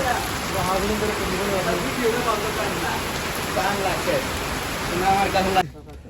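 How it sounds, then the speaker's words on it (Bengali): Heavy rain pours steadily along a journey from Laksam to Chandpur in Bangladesh, a dense, constant hiss that fills the whole clip while people talk over it, cutting off abruptly near the end. "প্রচুর বৃষ্টি পড়তেছে"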